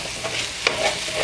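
Beef and broccoli with onion wedges and sesame oil stir-frying in a pan, a steady close sizzle with a brief sharper clatter midway.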